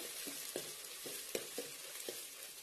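Moth beans (matki) roasting in oil in a pan, with a soft, steady sizzle and quick, regular scrapes from stirring about twice a second, heard alone and fairly faint.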